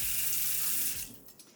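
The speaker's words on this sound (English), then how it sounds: "I just poured some cold water before draining it." Cold water from a tap gushes steadily over cooked rice before draining, a loud close rushing pour that cuts off after about a second and fades to quiet.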